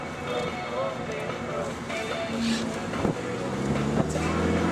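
A 2002 Volkswagen New Beetle with a small four-cylinder engine circles tightly, its steady engine drone and road and wind rumble running continuously under someone talking.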